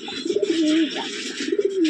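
Soft pigeon coos, a rolling low call repeated twice with a short gap, close by against a hissy background.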